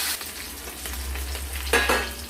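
Pieces of katla fish frying in a pan while being browned on the second side: a faint, steady sizzle over a low hum, with a couple of brief louder spatters near the end.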